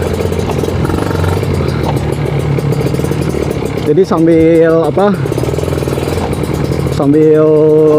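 Kawasaki Ninja RR two-stroke engine idling near the mic with a rough, rattling burble, then revved twice in sharp rising bursts, while someone talks over the idle.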